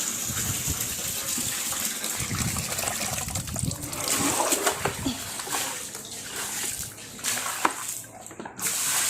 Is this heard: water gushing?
yes